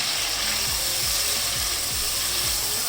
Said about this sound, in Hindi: चिकन को मसालों के साथ भूनते हुए मुझे तकरीबन 5 से 7 मिनट हो गए